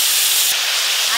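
Tamarind pulp hitting a hot pan of crab curry, a loud, steady steam-like hiss that swells abruptly partway through and continues close up without a break.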